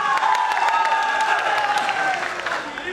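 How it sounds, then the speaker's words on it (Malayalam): Audience applause and cheering for Mammootty fans at the Kalyan Shree Muthappan Seva Samithi 2024 annual stage event: a dense, steady crowd clapping that stays loud throughout, with some voices and tonal sound mixed in. "മമ്മൂട്ടി ഫാൻസിന് കൈയടിച്ച മമ്മൂട്ടി ഫാൻസ്."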